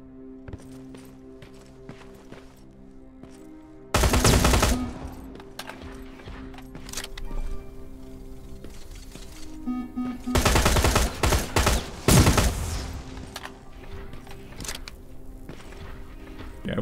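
A plasma turret firing in the shooter game Terminator Resistance, delivering two loud sustained bursts of rapid automatic fire with scattered sharper shots, over a layered game music and ambience bed.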